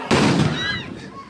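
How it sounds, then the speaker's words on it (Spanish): A sharp gunshot-like bang near a border bridge crossing at Reynosa-Hidalgo, a single loud burst with a short decay, amid a crowd and raised voices. "Están tirando tiros."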